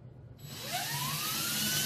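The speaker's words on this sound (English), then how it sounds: "I've got my 3/8 inch drill ready to go." A 3/8 inch drill bores into the wood of an Ibanez Concord 645 Vintage acoustic guitar, giving a steady close whine that starts after a brief pause and holds, with its pitch rising slowly as the bit bites.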